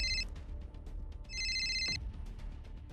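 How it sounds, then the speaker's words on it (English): A telephone bell rings in two bursts of rapid trilling with a short pause between, fairly close and clear, with no talking over it. "Phone's ringing."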